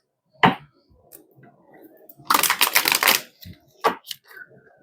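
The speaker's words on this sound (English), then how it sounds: "One more shuffle." Tarot cards from a brand new deck being shuffled: a quick riffle, a short burst of rapid flapping shuffles, then a final snap, close and crisp with quiet pauses between.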